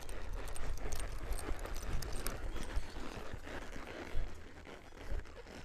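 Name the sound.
horse hooves walking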